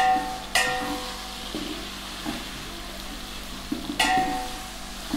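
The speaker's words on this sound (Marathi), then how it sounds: "व्यवस्थित आपण परतून घेऊया." Vegetables for a large batch of veg pulao sizzle steadily in a pan, with soft frying hiss throughout and two sharp metallic clinks of a spoon against the vessel.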